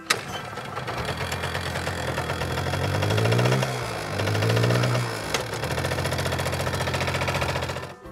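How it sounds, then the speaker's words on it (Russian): A scooter engine buzzes steadily nearby, rising in a couple of revving swells before settling back to a rattly idle. "Скутер."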